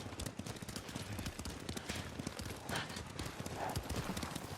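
Horse hooves clip-clop steadily in a video game, a dense, continuous run of hoofbeats that stays prominent throughout over a busy background.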